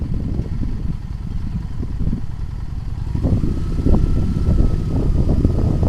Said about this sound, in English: Give it a little bit of throttle.